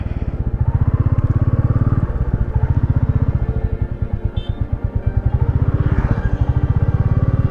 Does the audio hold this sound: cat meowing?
no